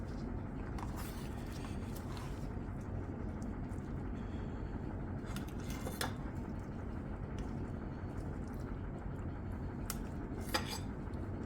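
Soft clinks and scrapes of utensils against dishes while plating rolled egg omelette, scattered and fairly quiet over a steady low background hum, with a few sharper taps near the end.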